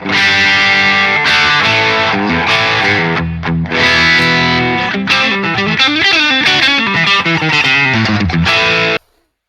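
A heavily distorted electric guitar through an overdrive pedal plays a dense, gritty riff with sustained chords and bending notes, then cuts off abruptly at the end.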